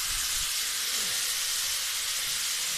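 Peppers, garlic, onion and ham frying in a pan, a steady broadband sizzle and hiss throughout with no pauses, close and even in loudness.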